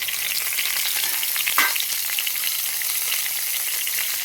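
Washed drumstick vegetables (sajna) hit hot oil in a pan, giving a steady, bright sizzle and crackle throughout with a brief louder hiss in the middle and no talking.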